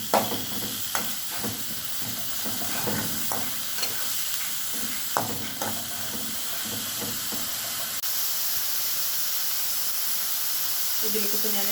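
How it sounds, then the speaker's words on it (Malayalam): Close-up stirring of Kerala-style yogurt curry in a hot pan: intermittent spoon scrapes and knocks over a steady sizzling, hissing fry that carries on throughout. "ഇതൊന്ന് ഇളക്കാം."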